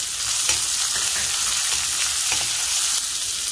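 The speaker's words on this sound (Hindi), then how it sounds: "प्याज को हल्का सॉफ्ट होने तक भून लेंगे" Onions frying in hot oil with dried red chilli and asafoetida for a ridge gourd (tori) curry, a steady close sizzle with faint crackle throughout and no voices.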